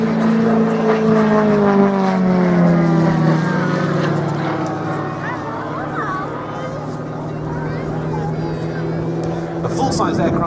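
A model Extra aerobatic plane flies at an airshow, its propeller engine droning loud and continuous with shifting pitch as it manoeuvres, while a commentator talks over it.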